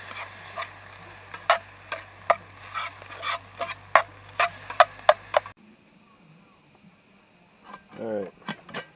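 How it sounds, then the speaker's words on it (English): Food being stirred while it browns in a pan over a campfire at a camp, with a run of sharp scraping and clacking strokes for about five seconds, then quieter outdoor background with a brief rustle near the end. "I'm gonna stir it and"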